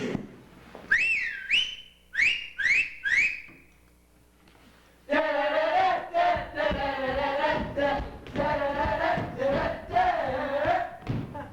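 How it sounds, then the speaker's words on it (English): Several rising whistles in quick bursts during a high school stage production, followed by a loud audience cheering and shouting. "can you do your whistle for us?"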